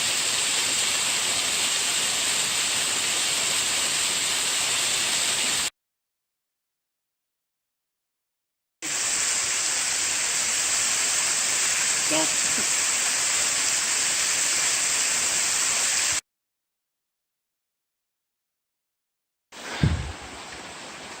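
Steady broadband roar of a 25-30 foot unnamed waterfall on the South Prong of Middle Creek in Pisgah National Forest, loud and continuous in two long stretches broken by silence, ending with a short thump.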